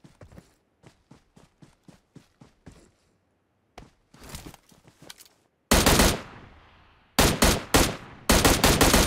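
Gunfire from 5.56 weapons in the mobile shooter PUBG Mobile: a rapid string of faint distant automatic shots, then closer bursts, ending in several loud, punchy full-auto volleys nearby.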